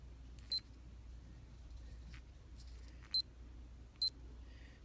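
A tactical wristwatch alarm chirps in three short, bright beep bursts spaced irregularly across the stretch, fairly close, over a quiet room hum with no talking.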